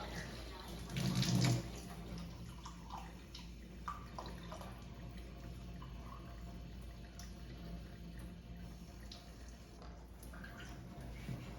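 Water runs from a tap with a soft, steady rush, briefly louder near the start, then continuing quietly with faint clinks.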